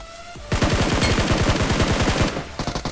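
Automatic gunfire in PUBG Mobile, a loud, close, sustained burst of rapid shots lasting about two seconds before tapering into a few scattered final rounds.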